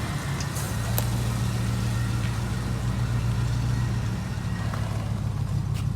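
A Range Rover Classic LSE soft-dash engine runs steadily and loudly up close as the vehicle pulls away, with a constant low rumble that holds for the whole stretch.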